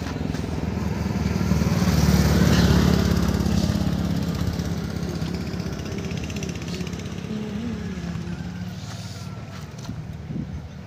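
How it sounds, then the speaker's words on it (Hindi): A 110 cc motorcycle engine droning steadily on a mountain road climb, a buzzing hum with wind rush that swells in the first few seconds and then eases to a constant level, heard alone without talk. "110 cc की बाइक से जा रहे हैं हम पहाड़।"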